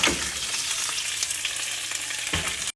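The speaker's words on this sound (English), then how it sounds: "Okay, let's go saute this. Added some olive oil to my pan. Now I'm going to add in my spinach" Spinach sizzling in olive oil in a hot pan, a steady loud fry throughout with a brief stir or toss near the end, no voices.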